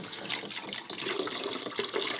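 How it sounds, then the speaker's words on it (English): Bottled water pours into a portable Purifighter Gaiya reverse osmosis purifier, a steady soft splashing stream that stays even throughout, with no talking. "We're going to pour this in."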